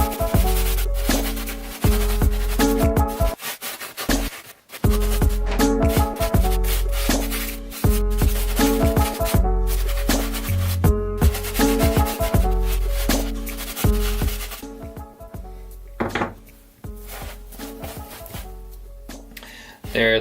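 A medium bristle brush scrubs a muddy Adidas Ultra Boost shoe in loud, close, rhythmic strokes, with brief pauses between bursts of rapid back-and-forth rubbing.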